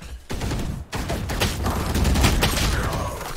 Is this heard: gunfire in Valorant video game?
yes